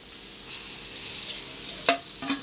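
Egg fried rice cooking in a pan as cooked rice is stirred with a spoonful of oil: a faint steady sizzle with two sharp scrapes of the spoon near the end, no talking.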